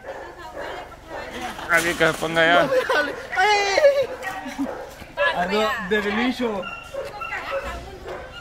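A dog yips and barks in short bursts beneath continuous excited conversation, with several people talking over it at close range.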